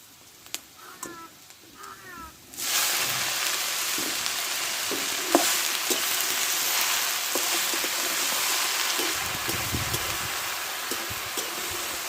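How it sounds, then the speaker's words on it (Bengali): Chopped jute leaves tip into a pan of hot oil with turmeric, bursting into a loud, steady sizzle and fry that runs on continuously after a few quiet clinks and brief chirping at the start. "কেটে রাখা শাকটা ঢেলে দেবো"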